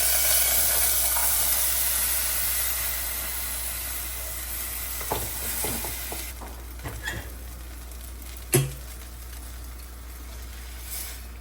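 Olive oil sizzles in a pan before rice goes in, a steady broadband hiss running throughout with a few light clinks and a sharper knock partway, no talk over it.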